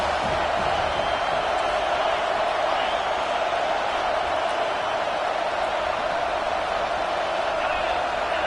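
A stadium crowd roars for the defense on third down in a Madden/NCAA football video game, a loud, unbroken wall of cheering that holds steady throughout with no break.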